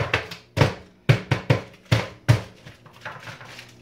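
A metal pan and lid clatter onto a home stovetop while granola bars are being made, several sharp knocks and clunks close by in quick succession, with no talking.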